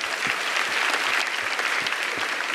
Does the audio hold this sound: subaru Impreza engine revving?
no